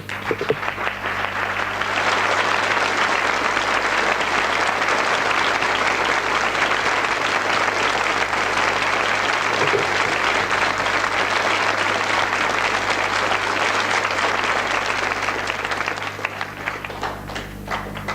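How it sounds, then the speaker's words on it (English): A TV studio audience gives Diana Ross a sustained round of applause on her arrival, dense steady clapping that swells after a couple of seconds and holds loud before easing off near the end. "Je vous demande d'applaudir Diana Ross."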